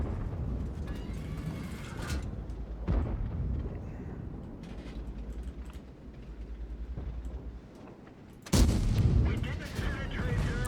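Tank cannon fire and battle noise in the World of Tanks video game, with a Kranvagn tank involved; heavy booming blasts and rumbling, including a loud sharp shot near the end, under a continuous dense game soundscape.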